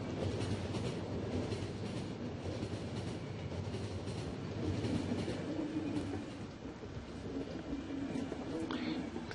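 A train in the video game The Final Station rattles along its rails in a steady, continuous clatter with no voices.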